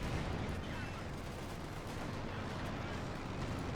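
Gunfire and machine-gun bursts from a Company of Heroes 2 battle, Wehrmacht versus Soviet forces, rattle as a dense, steady barrage of overlapping shots and rumbling battle noise throughout, fairly distant and continuous.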